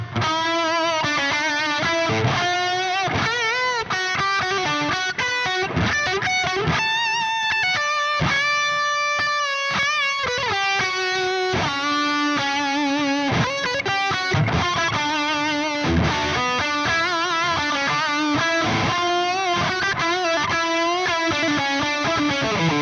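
Loud, sustained music with a heavily distorted electric guitar playing a busy riff, thick and saturated throughout, no voices.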